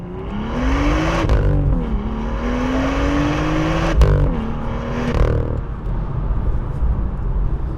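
A first-generation BMW M2 engine revs hard, its pitch climbing, dropping at gear shifts including a tough first-to-second shift, then climbing again, loud and close from inside the car.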